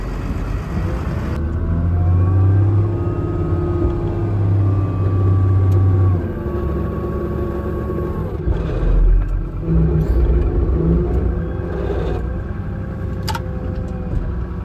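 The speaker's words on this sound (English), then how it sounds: "Driving this old Volvo." An old Volvo truck hauling cow manure drives along, its engine a loud, steady low rumble that rises and shifts briefly as it works, heard close and alone.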